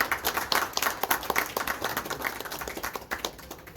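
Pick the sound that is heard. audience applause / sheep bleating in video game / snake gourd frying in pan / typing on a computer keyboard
audience applause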